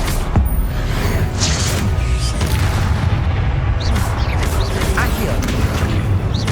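Confringo fire spell blasts in the Hogwarts Legacy video game, a series of booming explosive bursts and crashes layered over constant battle noise, with a voice calling out spells.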